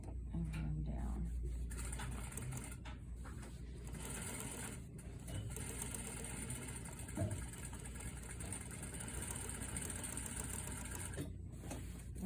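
A sewing machine runs steadily while stitching a placket sample, its low mechanical whir and needle rattle continuing almost without pause, fairly quiet and close, with a brief knock midway.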